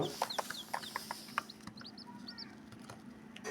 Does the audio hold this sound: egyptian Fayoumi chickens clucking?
yes